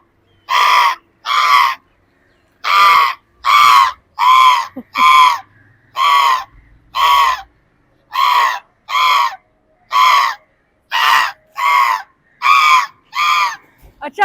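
A boy mimics the cawing of a distressed crow, giving about fifteen loud, harsh caws in an irregular rhythm, close and clear, with no other voices.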